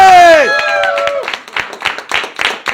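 A loud held voice fades into scattered clapping and crowd noise, the applause uneven and close.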